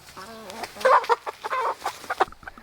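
A young rooster from a farm flock gives a run of close clucks and short rising calls, several bursts packed into under three seconds, with no voices over it.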